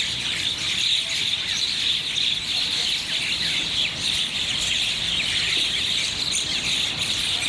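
Red-eyed birds in Bangladesh call continuously in a dense chorus of shrill chirps and twitters, steady and fairly loud throughout.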